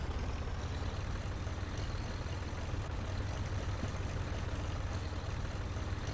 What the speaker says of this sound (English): I like the sound of this tractor.